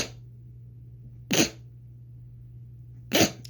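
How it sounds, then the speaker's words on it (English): Two short, sharp sneezes about two seconds apart, close and fairly loud, each standing alone against a quiet room with a low steady hum. "About to sneeze."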